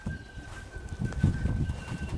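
Racing pigeons cooing at their loft on a cold, windy day: soft, low repeated coos swelling and fading close by, with light rustling and no talk.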